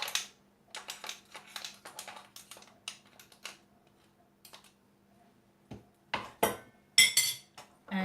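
A spoon scrapes and clinks against a container while tomato and onion puree for a low-oil vegan chickpea curry is pulled out, giving short irregular metallic scrapes and taps close by.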